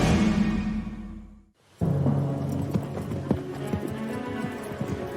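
Horse hooves clip-clop in an uneven rhythm after a brief drop to near silence, with rustling movement and faint background sounds.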